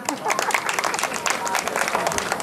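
An audience claps at an outdoor saxophone concert. Dense, fairly loud applause runs throughout and blends into a crowd, with a voice mixed in.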